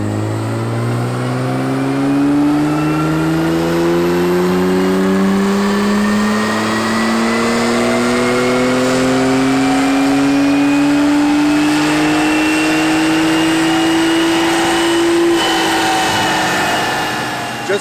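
A Porsche Cayenne GTS engine revving on a dyno during a tuned run, a loud continuous pull with the pitch climbing steadily through the gears for most of eighteen seconds before easing off.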